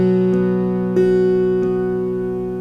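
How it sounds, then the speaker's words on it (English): A sustained sampled 1787 French harpsichord at 415 Hz tuning, dry, with bright plucked attacks repeating a few times, notes ringing together and gradually decaying. "let me let you just take a listen to the 415 tuning"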